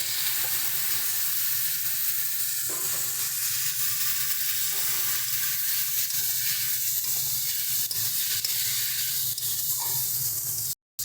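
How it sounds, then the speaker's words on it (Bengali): Chopped tomatoes with a splash of water sizzle and hiss steadily in a hot pan for a fish curry. The frying stays loud and continuous at close range, with faint stirring underneath, before cutting off abruptly at the end. "আগে থেকে কেটে রাখা টমেটো দিয়ে দিচ্ছি সামান্য একটু জল"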